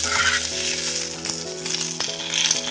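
Chopped onions frying in hot oil until browned, being roasted for a malai broccoli dish; a steady close sizzle with crackling, alone without talk.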